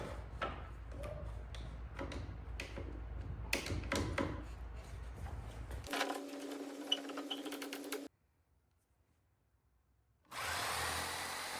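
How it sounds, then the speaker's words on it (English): A jigsaw cuts through the wood of a vintage dresser, buzzing steadily and close by for several seconds, then cutting out to near silence before the saw starts up again. "use my jigsaw to remove it"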